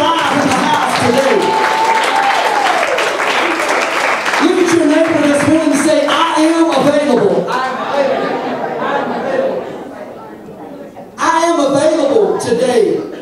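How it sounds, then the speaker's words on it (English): Church congregation clapping hands during a Pentecostal Sunday service, rhythmic group clapping mixed with chatter and raised voices, loud and close, dipping briefly before surging back near the end. "Somebody clap your hands and act like we're alive in the house today."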